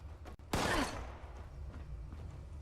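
Bow fired in the game Fallout 76: one sudden loud twang and whoosh with a sharp attack that decays over about a second, heard over steady game ambience.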